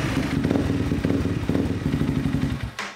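A Honda CRF300L motorcycle with a newly tuned ECU runs steadily close by, its engine giving a continuous throbbing drone with a slight surge partway through before cutting off near the end.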